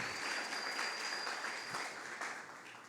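A church congregation applauds for an elderly woman in a steady wash of clapping, fairly distant and soft, holding evenly for a few seconds before tapering slightly.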